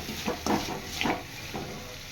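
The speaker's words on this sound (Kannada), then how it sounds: "ಸ್ವಲ್ಪ ಇದು ಫ್ರೈ ಮಾಡ್ಕೋಬೇಕು ಈರುಳ್ಳಿನ. ಮತ್ತು ಕರಿಬೇವು ಹಾಕೋತಾ ಇದ್ದೀನಿ." Onions and curry leaves fry in a pan with a steady, soft crackling hiss, broken by a few brief scraping stirs close by.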